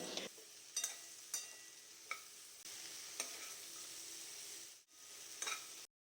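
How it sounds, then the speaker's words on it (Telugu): Okra pieces stirred while frying in a pan for a Telugu okra and tomato curry, with a steady sizzle and several short scraping stirs standing out, alone and close. "బెండకాయ ముక్కలు వేసుకొని మంచిగా కలుపుకోవాలి."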